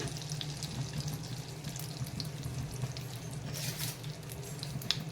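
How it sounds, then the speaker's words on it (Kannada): Cashews frying in hot ghee in a pan, a soft steady bubbling hiss with faint crackles, fairly quiet and close with no talk. "ಇದಕ್ಕೆ ನಾನೀಗ ಗೋಡಂಬಿ ಫ್ರೈ ಮಾಡ್ಕೊತೇನೆ"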